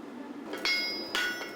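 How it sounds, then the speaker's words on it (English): A hind horseshoe for a heavy driving horse is forged by hand, with extra steel worked into the outside heel. Three sharp, ringing hammer blows strike steel on an anvil, spaced apart against a quiet background. "He's forging the outside heel and putting loads of steel in the outside heel of the hind shoe."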